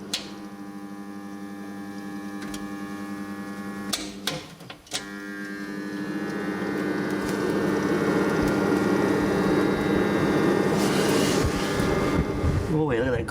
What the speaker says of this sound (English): Yep, the motor's going.